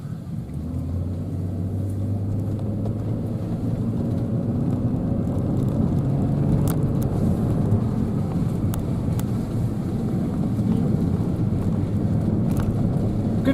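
Interior drone of a car climbing a narrow, bumpy mountain road with a mild hairpin as the weather turns; a steady low engine and road rumble with occasional knocks and thumps from bumps, fairly close, with no talking.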